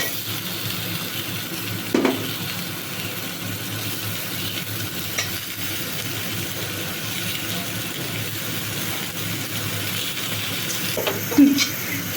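Steady, low sizzling of vegetables (eggplant, drumstick, yardlong beans) frying in a pan, with a couple of brief scraping stir sounds.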